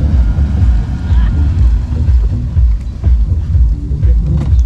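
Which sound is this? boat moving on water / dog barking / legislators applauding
boat moving on water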